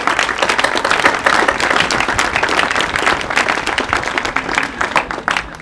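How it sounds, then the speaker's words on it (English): Loud audience applause at a high school senior day event, recognising the office staff, with dense clapping sustained throughout and a few sharper claps near the end. "let's give them all a round of applause real quick."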